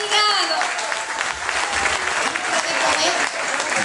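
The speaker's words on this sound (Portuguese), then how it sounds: "Uma salva de palmas para aquele senhor" An audience applauds at a charity fundraising auction for a wheelchair, with steady, loud clapping from many hands that runs throughout and is mixed with crowd voices.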